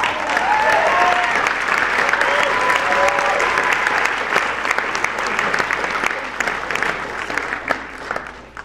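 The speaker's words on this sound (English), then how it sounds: "But let's give Ann a round of applause" Audience applause for a guest at a speaking event, a broad steady wash of many people clapping, with a few voices and faint cheers mixed in at the start before it gradually thins.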